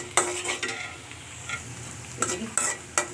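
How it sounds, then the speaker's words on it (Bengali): Onions sizzle steadily as they fry in a pan for a shrimp and kalmi greens dish, with several sharp scraping stirs of a utensil against the pan and no talking. "পেঁয়াজটা মোটামুটি ভাজা হয়ে আসছে"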